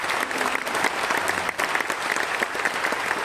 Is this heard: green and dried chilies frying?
no